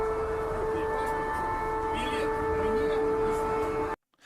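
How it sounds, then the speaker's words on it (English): An old Soviet air raid siren in Moscow wails as a sustained, loud, steady multi-tone drone for about four seconds, with faint background voices, before cutting off abruptly. "Look, an old Soviet air raid siren."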